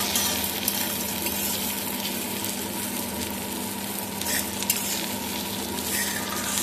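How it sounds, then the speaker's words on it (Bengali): Continuous loud sizzling of vermicelli frying in a pan, with occasional stirring scrapes and light clicks, no voices. "এবারে আমি সিমুইটা দিয়ে দেবো ভাজা"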